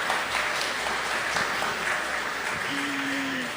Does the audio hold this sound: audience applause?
yes